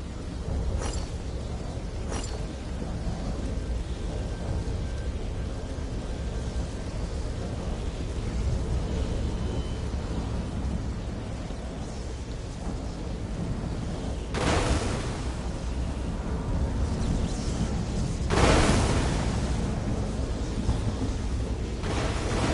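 Lightning spell thunder in The Elder Scrolls Online, heard as two sudden loud broadband crashes about four seconds apart, rising out of a steady rumbling game ambience with faint earlier cracks.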